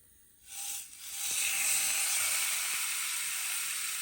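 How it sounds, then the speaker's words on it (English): Steaks sizzling loudly in a frying pan at a Texas ranch campsite, a steady broad hiss that swells up after a brief quiet start and holds strong throughout. "who doesn't love the sound of a steak sizzling in a frying pan?"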